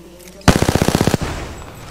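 Rapid automatic gunfire from an Apex Legends battle, a burst of about a dozen evenly spaced loud shots lasting under a second, followed by fading echo and game ambience.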